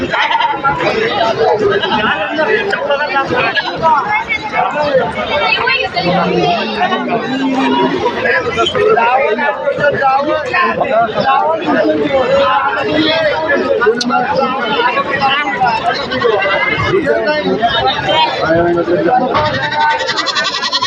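Kathiawari goats bleat amid a crowded Maharashtra goat market in Shirur, Pune, their calls mixed into constant loud chatter and babble of people talking throughout.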